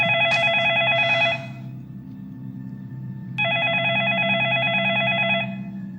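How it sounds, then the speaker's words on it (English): Telephone ringing in the 2004 horror film The Grudge, two loud, electronic trilling rings with a short gap between them over a low background hum. "So then the phone rings."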